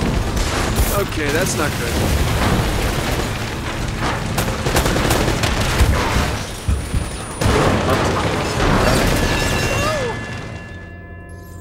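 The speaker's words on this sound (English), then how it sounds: "That's a rocket launcher!" Rocket launcher blasts and explosions ring out amid ongoing gunfire in a combat scene from the video game Uncharted: Drake's Fortune, loud and continuous for most of the stretch, with someone talking over the din.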